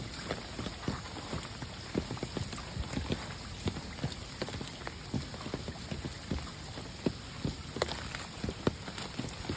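Steady rain patters down with scattered louder drops hitting a surface nearby, a continuous soft wash with no voices.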